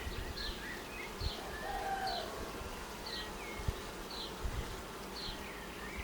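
Honey bees buzz around an open frame pulled from a Ukrainian-Alpine hive during spring nest expansion. The humming is soft and steady, with individual bees zipping past close by.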